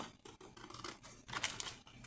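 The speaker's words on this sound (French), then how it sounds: "je coupe avec une paire de ciseaux" Scissors cutting through paper card: a quick series of faint, close snips and scraping cuts in a quiet room, with no talking.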